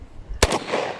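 A single sharp gunshot cracks out close and loud from a pirate-style gun being test-fired at a target, breaking a quiet moment and trailing off into a brief echo.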